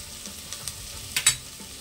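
A pudina rice mixture fries in a pan with a steady, low background sizzle and a few sharp clinks and scrapes of a spoon, the loudest coming in a quick pair. No voices.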